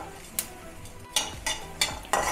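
Coriander seeds roasting in a dry pan, quiet rustling with a few sharp scraping strokes of a spatula at irregular intervals, close and faint with no talk.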